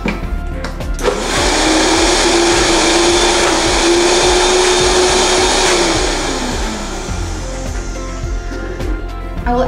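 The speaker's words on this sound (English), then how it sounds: "Blend that." An electric blender whirs loudly and steadily as it purées tahini paste with a clove of garlic. The motor runs for several seconds, then winds down.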